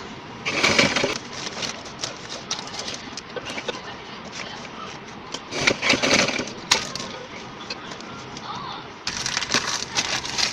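A sewing machine stitches stretchy hosiery cloth laid over newspaper, its needle chattering in several short rapid bursts separated by pauses, with faint paper rustle and a person speaking between runs.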